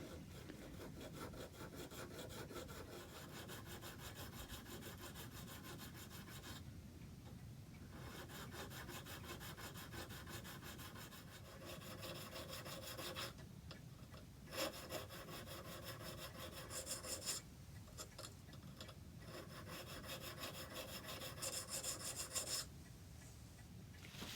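A metal file rasps steadily across the teeth of a toothing plane blade, cleaning rust and sharpening them in repeated strokes with short pauses between bursts, close and fairly quiet with no talking.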